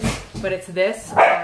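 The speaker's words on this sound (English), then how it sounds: "Sorry about the dogs." Pet dogs bark indoors in a home during a needlework chat, with short barks and yips mixed under and between a woman's speech.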